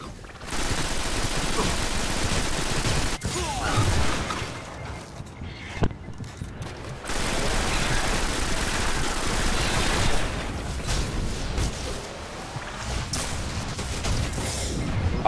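Bursts of rapid automatic fire from an SMG-like weapon in Destiny, during the Black Garden final boss fight, loud and sustained with short pauses and sharp cracks between volleys.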